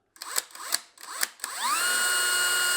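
A power drill with a 1/8 inch bit bores a center hole in three or four short bursts, each spinning up and cutting off, then runs in one steady, rising whine; close and clear with no voices.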